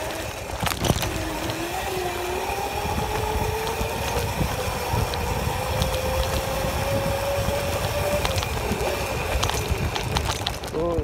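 Electric Razor scooter converted to 36 volts being ridden outdoors, with a steady motor whine rising slowly in pitch as it speeds up, under constant wind rush across the microphone.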